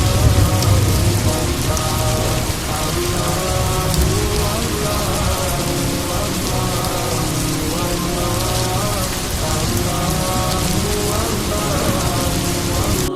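Steady heavy rain falls on a surface where a hen shelters her chicks, a dense continuous patter close by with no voices.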